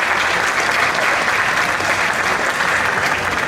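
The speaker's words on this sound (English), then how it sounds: "If we can give them all a round of applause as well" Steady, dense applause from a festival audience at the Hmoob Nyob Zos Wausau Festival, loud and continuous throughout with no gaps, a crowd clapping for event sponsors.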